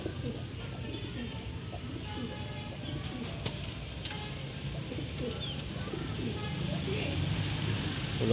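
Racing pigeons coo softly and steadily at a loft, with faint wing flutters and some distant background noise.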